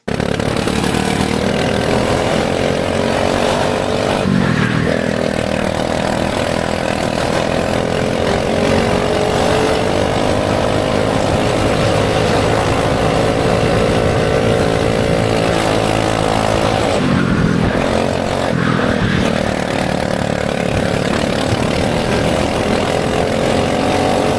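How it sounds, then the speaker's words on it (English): A junior-chassis go-kart with a 24 hp two-stroke engine screams at high revs for the whole stretch, its pitch rising and falling as the throttle changes, with two short dips off power. "So this cart in front of us is a junior chassis, so it's a lot smaller, a lot lighter, but it's fitted with I think a 24 horsepower two-stroke engine."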